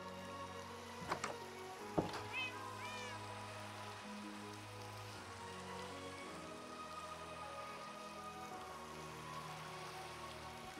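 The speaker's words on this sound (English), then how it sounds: "There's one cat." A cat in the video game Farmhouse SMP gives two short meows early on, faint against a soft steady rain-like ambience that continues alone afterward.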